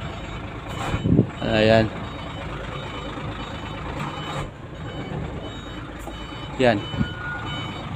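A trailer truck reverses with its reversing beeps over a low engine rumble, while someone talks and calls out briefly in between.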